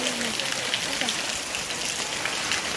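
Heavy rain pours steadily onto surfaces in a dense, even hiss of drops, close and unbroken throughout, with faint voices beneath it.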